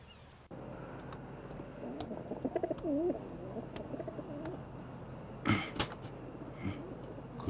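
A pigeon coos in a soft, warbling run of notes, heard close and alone, followed by a few sharp knocks and rustles.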